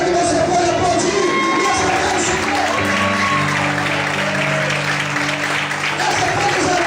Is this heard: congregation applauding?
yes